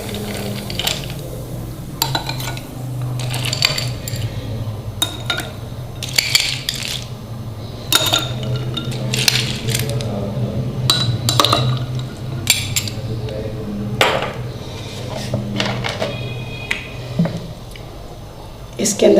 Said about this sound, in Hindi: इसके अंदर डालेंगे हम आइस यानी